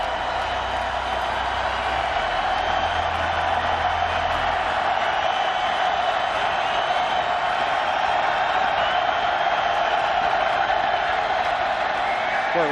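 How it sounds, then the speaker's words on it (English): A college football stadium crowd at a Boise State versus New Mexico game, a loud, sustained roar of many voices building before the snap, dense and unbroken, with a low rumble early on. "Listen to the crowd as they get ready to snap this football."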